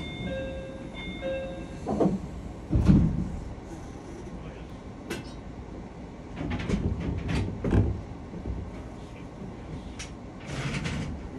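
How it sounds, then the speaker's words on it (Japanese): A Japanese commuter train's sliding doors close, preceded by a short tonal chime and followed by a couple of firm thuds as the panels meet, set against the low rumble of the carriage and platform. "ドアを閉めます。 ご注意ください。"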